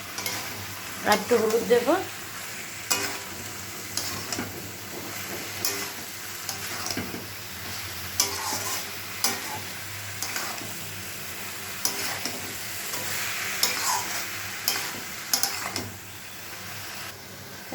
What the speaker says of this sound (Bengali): মশলা কষানো হয়ে গেছে, এবার আমি মোচাটা ছেড়ে দিচ্ছি। এবার একটু ভালো করে নাড়বো।